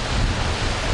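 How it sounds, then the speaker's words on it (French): Waves lapping on a lake shore, a continuous close wash of water with some wind rumble, no voices. "on entend le bruit des vagues sur la grève"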